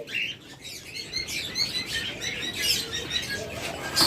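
Caged grey pet birds, lovebirds or budgerigars, chirp and tweet in a steady high-pitched chatter, several birds calling over one another at close range with faint fluttering, no voices.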